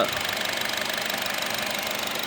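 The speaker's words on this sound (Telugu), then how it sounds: "ఇంజను పెట్రోల్ ఇంజన్ కాబట్టి స్మూత్గా వస్తుంది మనకు హోండా ఐవిటెక్ అండి" A 2009 Honda Jazz top-model petrol i-VTEC engine idling, heard up close as a steady even hum with a faint regular pulse, no voices.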